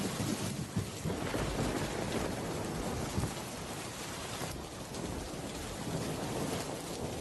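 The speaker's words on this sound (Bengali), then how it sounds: "এদিকে তো বৃষ্টি থামারও নাম নেই।" Heavy rain with thunder in a cartoon village scene, a dense, steady downpour hissing throughout with low rumbles of thunder beneath, no voices.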